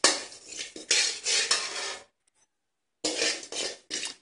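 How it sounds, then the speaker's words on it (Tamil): Cumin seeds roasting over medium heat in a pan, stirred with a metal utensil that scrapes and rattles in bursts, a pause of silence in the middle, then more stirring. "நல்லா மிதமான தீயில் வச்சு சீரகத்தை வறுத்துக்கோங்க."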